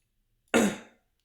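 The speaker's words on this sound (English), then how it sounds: "I keep coughing because my throat's a little sore from talking." A single short, harsh cough from a sore throat bursts out of silence and fades within half a second, close to the microphone.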